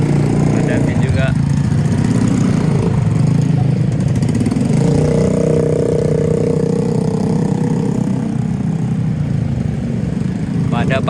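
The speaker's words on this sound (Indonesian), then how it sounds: "Pada pakai knalpot racing semua guys." Motorcycles fitted with racing exhausts idle and rev at a fuel-station meeting point in Banda Aceh, a continuous loud engine drone with rising revs, ringing out alongside voices.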